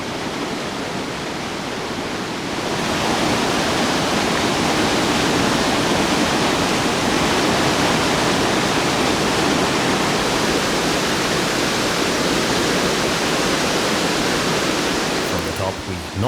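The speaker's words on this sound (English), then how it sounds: "The roaring Kalambo Falls drop down a total of 235 meters." Kalambo Falls in Tanzania, a single-drop waterfall plunging 235 meters into a verdant gorge, roars as a loud, steady wall of rushing water that swells in after about two seconds and holds constant to the end.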